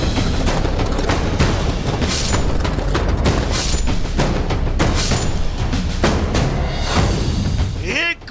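A firecracker shop blowing up in Hyderabad's Sultan Bazaar market: a relentless, loud barrage of overlapping cracks and booms, dense and continuous throughout, ending with a brief squeal.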